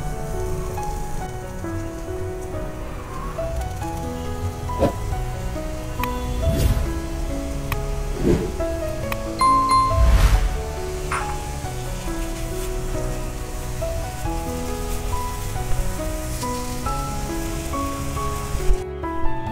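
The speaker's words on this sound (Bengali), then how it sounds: "এর মধ্যে চালটা দিয়ে দিলাম, কিছুক্ষণ নাড়িয়ে গরম করে নেব।" Raw rice is stirred and heated in a dry pan for mango payesh, giving a continuous grainy rustling and rattling with occasional louder scrapes of the spoon, close and steady with no voices.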